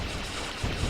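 Mortars fire in the TerraTech vehicle-building game as a dense, continuous rumble of booms, with heavier thuds near the end of a brief second.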